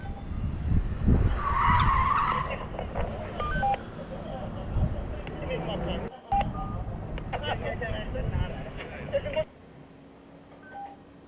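A car skids through a handbrake turn on a gymkhana course at Killarney International Raceway, its engine and tyre scrub rising loud and then easing, while a commentator talks over it and a steady electronic tone runs underneath.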